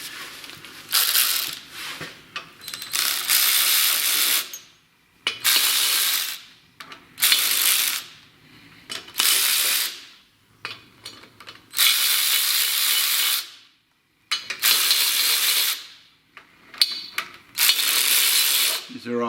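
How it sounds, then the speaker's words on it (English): A power ratchet whirs in long, loud bursts with brief gaps, loosening head bolts on a Kohler K301 engine, up close with the mechanism buzzing steadily during each pull. "Now, I am going to use my ratchet,"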